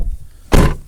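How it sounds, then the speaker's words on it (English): A door swings shut with one loud, close thud-like slam midway through, then quiet room tone. "I should close the door probably."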